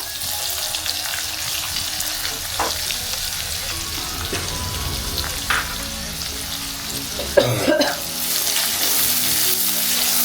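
Onion fries in a pan alongside cumin and minced garlic, giving a continuous close sizzle with occasional spoon knocks and a louder clatter near the end, no one speaking.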